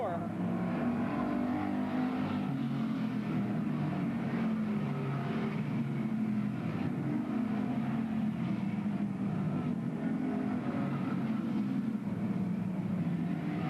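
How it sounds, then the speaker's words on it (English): Race cars circle the oval at Bedford Speedway in 1994, a dense, continuous roar of several engines heard from a distance, steady and droning throughout with no clear pauses. "As we come around to take lap number 3, Deneen is still right on Eisner's rear bumper as they come out of turn 4"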